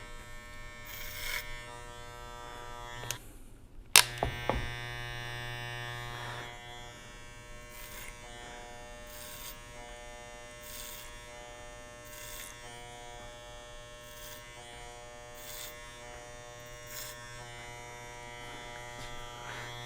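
Electric hair clipper running clipper-over-comb during a haircut, a steady close buzz with short interruptions as the blades move through hair, briefly cutting out early on, with no speech.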